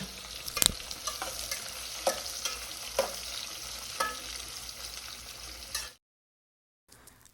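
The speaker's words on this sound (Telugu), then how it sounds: "నెక్స్ట్ ఆయిల్లో కట్ చేసిన ఆనియన్స్ వేసి లైట్ బ్రౌన్ కలర్ వచ్చేంత వరకు బాగా ఫ్రై చేసుకోవాలి" Chopped onions sizzle in hot oil for a chicken biryani, a steady close hiss broken by scrapes of a spoon stirring the pan, then a sudden cut to silence before the frying resumes faintly.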